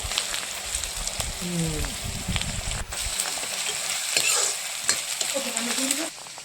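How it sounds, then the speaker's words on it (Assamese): Goat meat frying and being stirred in a karahi, a steady sizzle with scraping stirs near at hand, a voice briefly heard speaking in places. "ছাগলী মাংস বনোৱা হৈছে আজি ৰাইজসকল খাই মজা লাগিব একদম কেৰাহী পাতি দিয়া হৈছে"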